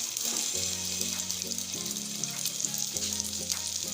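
Egg sandwich bread fries in a pan with a steady, close sizzle that carries through, with a few light scrapes as it is turned.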